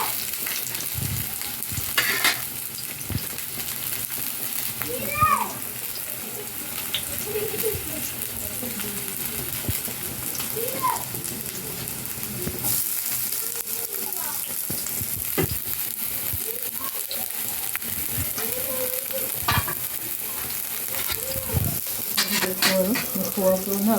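Leeks and onions fry in a pan with a constant sizzle and frequent clatter and scraping from stirring, while a voice talks now and then in the background.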